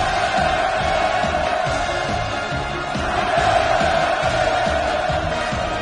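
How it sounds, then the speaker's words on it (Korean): A huge crowd at the opening of a North Korean tourism zone roars with continuous cheers and shouted hurrahs, a dense, loud, unbroken wall of voices. "폭풍 같은 만세 환호성이 하늘 땅을 진감했습니다"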